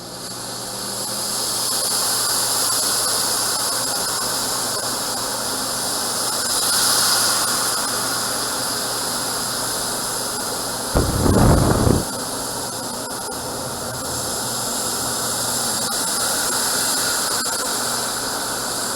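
Steam hissing loudly and continuously from a hot cooking pan, a dense steady rush with a brief dull thump partway through.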